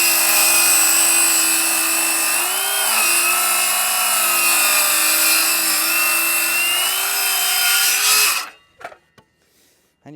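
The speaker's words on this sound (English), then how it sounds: "Nice even speed. Let the saw do its work." Power saw cutting oak framing timber onsite: a loud, steady, high whining drone held at even speed for about eight seconds, then cutting out abruptly, followed by a few faint knocks.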